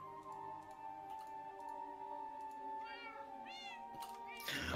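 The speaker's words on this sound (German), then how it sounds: "Hallo, stinke Katze." A Minecraft cat meows twice in drawn-out rising-falling calls over a soft ticking and steady in-game background tones, followed by a brief burst of noise at the end.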